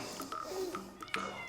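A house cat gives a few short, fairly quiet meows with small pauses between them, heard close by indoors.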